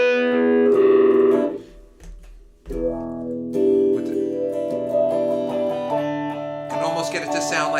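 An electric guitar played through a Sonicake Flip Wah pedal set for a swirling, phase-shifter-like tone, sustained chords and notes sweeping continuously, loud and close throughout.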